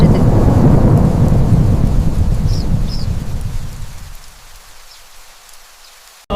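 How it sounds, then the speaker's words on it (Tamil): Loud, heavy rain pours with a deep rolling rumble of thunder, then fades to a quieter hiss before a sudden burst at the very end. "அன்று பலத்த மழை."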